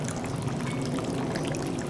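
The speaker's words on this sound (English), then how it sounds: "There's a little fountain." A small backyard fountain trickles and pours in a continuous, even splash of water, close and fairly loud with no talking.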